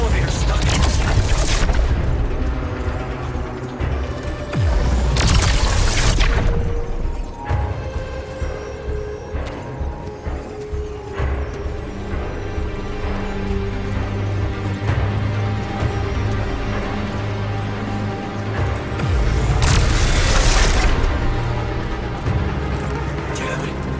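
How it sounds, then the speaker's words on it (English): Electrical short circuits boom and crackle through a collapsing base in The Alters, heavy bursts arriving in clusters over a dense rumble of machinery and music, loud and close, with a voice speaking over the chaos. "We need to contain those short circuits."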